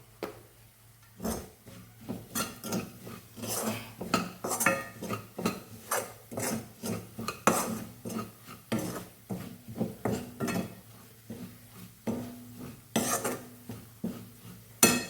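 Fenugreek powder and asafoetida frying in a pan for Kerala-style ginger curry, with steady scraping and clinking of a metal spoon against the pan in quick uneven strokes, close and moderately loud, no talking.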